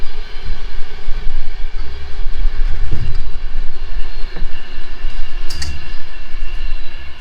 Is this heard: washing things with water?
no